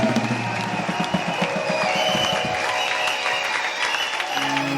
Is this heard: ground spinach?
no